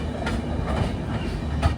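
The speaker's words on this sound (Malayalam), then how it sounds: "ട്രെയിൻ ഇപ്പോൾ ദുവാഡ റെയിൽവേ സ്റ്റേഷനിലേക്ക് ഇതാ എത്തുകയാണ്." Humsafar Express from Agartala to Bengaluru pulling into Duvvada railway station, with a steady close rumble of rolling coaches and a few soft clickety-clack wheel beats throughout.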